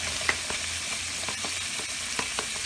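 Half an onion frying in butter and oil gives a steady, close, bright sizzle with faint crackles and light stirring ticks throughout.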